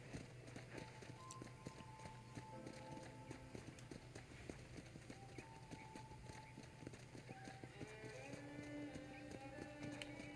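Hooves of a horse ridden around a ranch in the video game Red Dead Redemption, clip-clopping in a steady rhythm throughout, faint and set against a low ambient hum.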